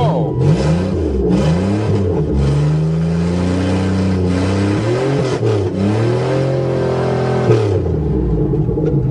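A repaired Buick Regal's engine runs close by and is revved repeatedly, its pitch climbing and falling in several sweeps over a steady rumble.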